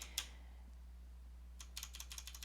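Keys tapped on a Mac computer keyboard, one faint click followed by a quick burst of light repeated taps, distant and quiet over a steady low hum.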